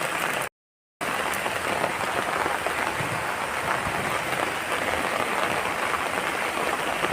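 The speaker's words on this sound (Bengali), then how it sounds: "ভালোই বৃষ্টি হচ্ছে, দেখতে পাচ্ছ, ভালোই বৃষ্টি হচ্ছে, ভালোই বৃষ্টি।" Heavy morning rain falls in a continuous close wash of hiss and patter, broken only by a brief silent gap near the start, with no one speaking.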